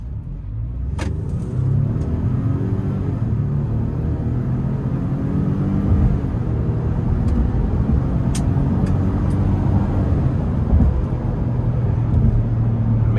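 A 2026 Ford Expedition Active pulls hard under acceleration, a loud sustained engine rumble and drone building steadily inside the cabin with road noise and a few faint clicks.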